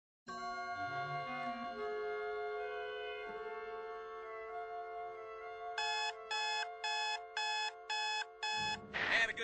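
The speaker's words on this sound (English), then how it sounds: "forgot to turn the blasted alarm off" An alarm clock rings with a sustained bright tone and then turns to a rapid pulsing beep pattern, repeating about seven times before a rustling clatter cuts it off.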